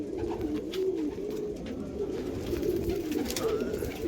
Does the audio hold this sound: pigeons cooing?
yes